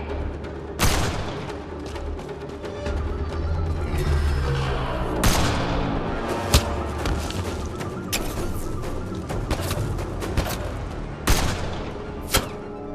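Gunfire in the Mass Effect Andromeda video game, with sharp shots and booming blasts cracking out repeatedly over a dense, rumbling combat soundscape, loud and close throughout.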